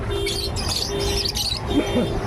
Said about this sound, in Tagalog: Ganda ng ibon, oh.